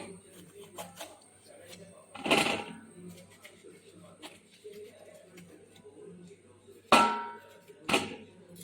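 A knife chops through bitter gourd on a cutting board, with two sharp bursts of cutting and a few lighter taps, close and fairly quiet against a soft room background.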